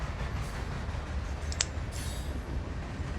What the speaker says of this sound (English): The train rushes through a glade some 15 miles beyond Rathal.